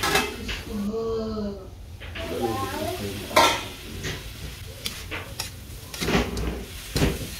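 Shrimp stirred in a pan of garlic butter: metal utensil clinks and scrapes against the pan over a soft sizzle, with a few sharper knocks, as a person talks at first.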